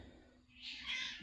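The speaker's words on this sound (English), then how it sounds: "the cats are killing each other" Cats scream and fight, a short, faint yowling screech rising midway and holding briefly, heard from some distance.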